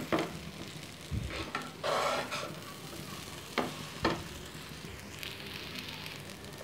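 A spoon stirs grated coconut into vermicelli frying in a pan. A low sizzle runs under a few scraping strokes and soft clatters, faint and close, with no one talking.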